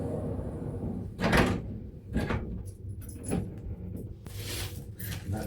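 A cruise ship balcony cabin door swings shut, giving a couple of loud broadband thuds and rattles at close range amid a steady room hum, with a final clunk near the end.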